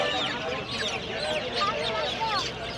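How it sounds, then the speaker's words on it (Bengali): Tiger breed chickens at a crowded riverside poultry market, their clucks and squawks mixing with ducks and geese in a dense, continuous chorus under nearby voices. "এখানে টাইগার মুরগি।"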